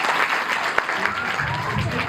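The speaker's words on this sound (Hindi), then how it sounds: "एक जोरदार ताली इनके लिए।" Audience applause at a children's summer camp event at Arya Samaj Kalka Ji, a steady dense clapping wash lasting the whole stretch, moderately loud with a faint voice mixed in.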